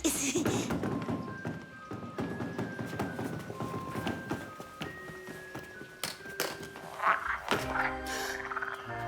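Toads croaking in a film scene, a busy run of croaks and taps with tonal music notes woven through, fairly close and continuous with a denser burst near the end.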